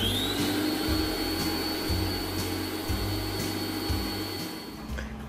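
An electric mixer beats walnut cake batter, a steady loud motor whine with a rhythmic pulsing churn as the beaters work through the bowl, running continuously with no voices and easing slightly near the end.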